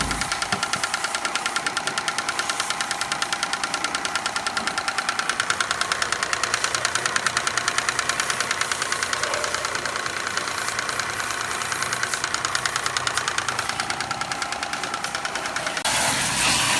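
A small engine of a car wash vending machine runs steadily with a knocking, rattling idle, loud and close, its pitch rising slightly near the end.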